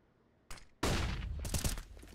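Gunfire in a Counter-Strike match on the Vertigo map during a pro tournament, a sharp single shot followed by a dense burst of rapid shots, loud and close.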